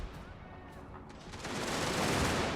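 A gunfire volley from units in a strategy video game with shrapnel-firing cannons: a dense, continuous rumbling crackle of massed shots that swells louder toward the end, with a voice faintly audible underneath.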